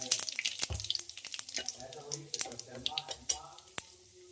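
Cumin seeds, bay leaves and asafoetida crackle in hot oil with sharp, irregular pops and spits over a faint sizzle, fairly quiet and close.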